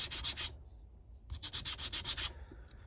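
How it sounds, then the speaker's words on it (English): Sandpaper rubs back and forth across a wooden board for a toy base build, smoothing rough cuts in quick rhythmic strokes, a short pause in the middle, close and clear with no talking. "I want to give this a quick sand."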